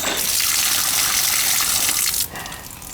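A newly installed outdoor sill faucet runs at full flow in a loud, steady gushing hiss that drops off sharply near the end as it is turned down, with no talk.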